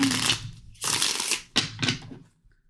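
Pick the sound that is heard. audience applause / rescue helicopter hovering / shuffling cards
shuffling cards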